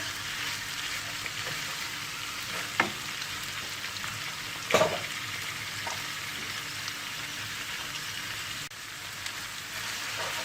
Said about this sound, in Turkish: Fasulyemizi 2 dakika bu şekilde kavurdum